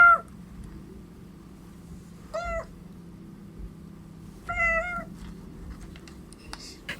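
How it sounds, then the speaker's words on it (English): A cat meows three times with pauses between, clear nearby calls over a quiet background hum. "let's hear from the cats"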